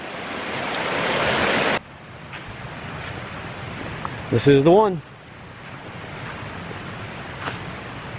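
A river flows beside a campsite on the Foothills Trail in North and South Carolina. It makes a steady broadband rush with some wind noise, and a voice speaks briefly partway through.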